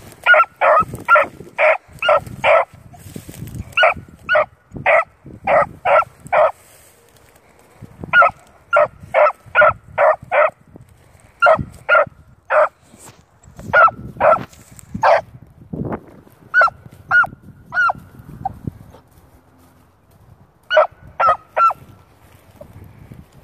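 Jersey hound pups in a field give repeated high barks and yips in quick bursts, some loud and near, with brief gaps between volleys and a whimpering note in places.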